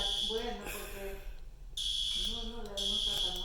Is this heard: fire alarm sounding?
yes